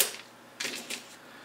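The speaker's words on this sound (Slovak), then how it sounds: "čiže znova nastavíme tlačiareň" A Zebra GX430t label printer running labels gives a few short, dry mechanical clacks and a whirring burst, heard alone and fairly close.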